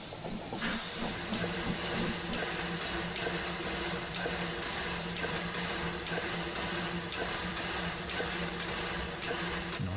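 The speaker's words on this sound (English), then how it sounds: "Nice air compressor pant." Steam locomotive 999 of the Empire State Express in Train Simulator Classic on the Boston and Albany line gives a steady, hissing air-compressor pant with a low rhythmic chug underneath, continuous and fairly close throughout.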